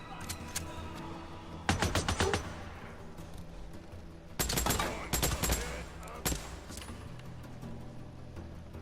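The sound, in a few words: gunfire in video game Days Gone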